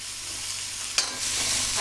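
Oil poured into a pan of frying onions for Malvani masala, with a quiet steady sizzle that surges into a brighter, louder crackle after a sharp splash, and no talk.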